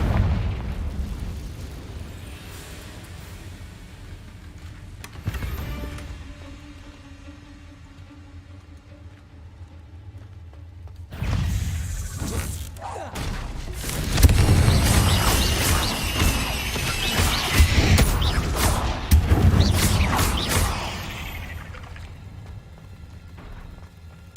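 Confringo spell blast in the Hogwarts Legacy video game, a rumbling explosion with crackling debris that swells midway and lingers, following quieter low game ambience.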